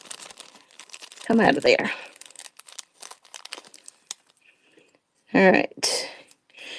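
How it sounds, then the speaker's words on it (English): A small plastic bag holding a jewelry brooch is opened and crinkled in two short bursts of rustling, near and fairly loud, while a person talks softly in between. "If I can get the little plastic bag open."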